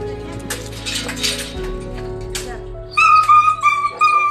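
A puppy caught on an awning whimpers and yelps in high, thin cries, with a voice talking and background clatter underneath.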